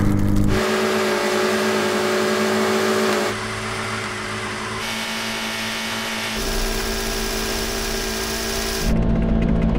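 Car engine held at high revs during a wheelspin burnout until a tyre is destroyed: a loud continuous roar with abrupt shifts in pitch and grit, running without a break.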